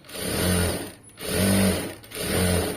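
Sewing machine stitching thread piping in three short bursts, each a close whirring run of about a second with brief pauses between.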